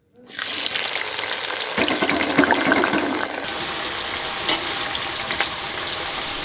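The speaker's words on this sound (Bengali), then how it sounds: "তেলটা গরম হয়ে গেছে পেঁয়াজ বেরেস্তাটা ভেজে নিচ্ছি" Onions sputter and crackle in hot oil while being fried crisp for biryani beresta, a loud, steady sizzle that swells after a sharp start and then settles slightly lower, with no voices over it.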